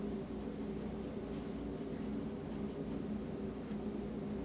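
Dark graphite pencil shading a cylinder form on paper, a steady close scratchy rasp of lead strokes over a constant low room hum.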